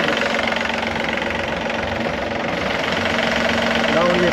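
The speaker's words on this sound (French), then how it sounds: "je vais aller couper le moteur" A Yanmar 3JH4 marine diesel engine runs steadily at idle during a freshwater rinse of its cooling heat exchanger, a loud, even knocking drone with a person speaking over it.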